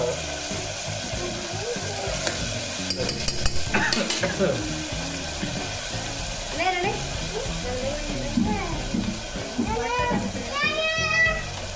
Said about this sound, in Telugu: గార్లిక్ కూడా నీట్గా ఫ్రై అవ్వాలి ఆయిల్లో